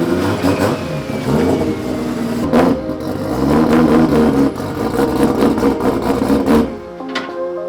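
A Toyota GT86 engine revving hard on a dyno, loud close mechanical roar rising and falling through several surging pulls, cutting off sharply near the end.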